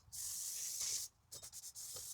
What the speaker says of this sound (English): I'm gonna spray down both sides.